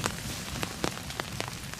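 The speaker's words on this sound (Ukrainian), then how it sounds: "Що дощик іде." Steady rain falling outdoors, a dense, even hiss of drops pattering on surfaces with scattered sharper ticks, continuous and fairly close with no voices.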